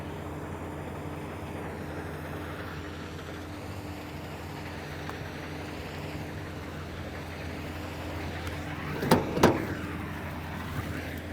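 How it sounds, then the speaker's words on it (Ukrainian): Combine harvester working a wheat field in Kyiv region, a steady low engine drone with a few louder knocks near the end, no talk. "Тож чекаємо, коли комбайн підійде до нас."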